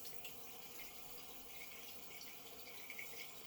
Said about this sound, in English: Let me rinse it off here for you.